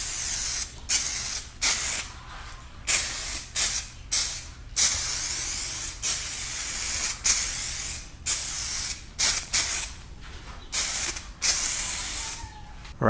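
Adhesion promoter is sprayed onto car side door scoops in a long series of short aerosol bursts, each a loud close hiss separated by brief pauses, steady in rhythm across the whole stretch.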